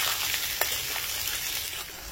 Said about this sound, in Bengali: তো পেঁয়াজটাকে ভেজে নিই